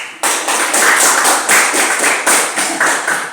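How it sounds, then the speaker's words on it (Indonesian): Applause for group 4 in a classroom presentation session, a steady burst of many hands clapping in a pulsing rhythm, fairly loud and close, starting sharply and continuing throughout without talk. "kita berikan aplaus untuk kelompok 4"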